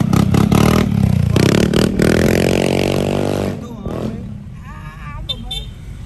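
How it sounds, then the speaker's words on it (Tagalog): Yamaha XMAX 300 scooter with an aftermarket exhaust pipe revving loudly, a rising engine drone with sharp bursts and clattering, then fading away as voices talk nearby. "Dahil nakapipe na yung motor niya."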